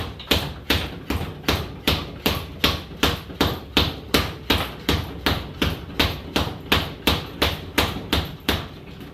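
Fast punches land on a leather punching bag in a steady rapid series of about two dozen thumping hits, evenly spaced and close, with no talk between them.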